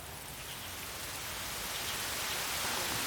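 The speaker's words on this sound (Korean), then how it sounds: "갑자기 내리는 비." Sudden rain falls in a Chinese park, a dense, steady hiss of drops on surfaces that swells gradually louder and heavier over a few seconds, with no voices.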